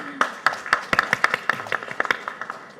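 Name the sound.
audience applause at a seminar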